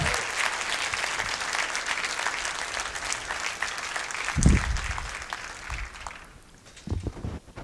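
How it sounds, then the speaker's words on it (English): Conference audience at MicroConf Growth breaks into applause, dense clapping filling the room for about six seconds, with a thump near the middle, then fading to a few scattered claps at the end. "asking all of you to give them a round of applause"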